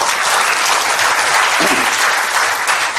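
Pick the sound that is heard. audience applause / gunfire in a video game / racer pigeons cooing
audience applause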